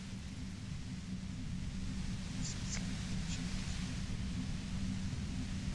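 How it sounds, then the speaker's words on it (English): Compressor in the Disco Elysium video game giving off a steady, loud hiss of white noise with a deep droning hum underneath, constant throughout, with a few faint clicks on top. "The violent white noise becomes even more overwhelming closer to the compressor."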